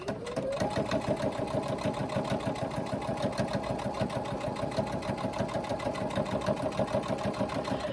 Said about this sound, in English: Now we stitch along the bottom line again on this card slot piece.